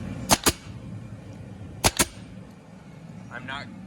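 Two quick pairs of sharp snapping staple-gun shots drive staples into webbing around wooden wall studs, each pair a close double crack, followed by a brief faint rustle.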